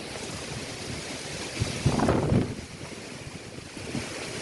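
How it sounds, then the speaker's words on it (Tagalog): Strong wind roars across the microphone with a louder gust swelling in the middle, over a constant rushing background like surf. "Kita nyo ba ang hampas ng hangin?"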